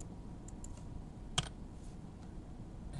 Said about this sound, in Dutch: Druk ik op F5 op mijn toetsenbord.